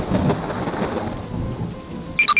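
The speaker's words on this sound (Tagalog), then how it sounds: "Bumuhos ang ulan at malakas ang kulog at kidlat." A deep rumble of thunder rolls under heavy rain, then a few sharp high tones cut in at the end.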